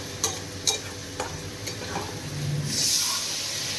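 A spoon scrapes and knocks a few times in a pan of tomato curry, then a loud frying sizzle swells and hisses close by, with no talk.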